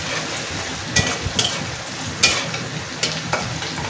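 Potatoes and kalmi greens frying in a pan, a soft continuous sizzle broken by a few sharp stirring clinks and scrapes at irregular moments.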